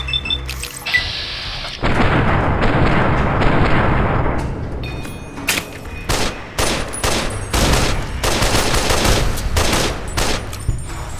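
Heavy gunfire in Fallout: New Vegas roars through a sustained loud barrage, then breaks into a rapid series of separate sharp shots toward the end.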